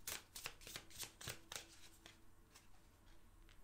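Tarot cards are shuffled by hand for a reading, a quick run of soft riffling flicks and slaps close by, very quiet, fading out after a couple of seconds.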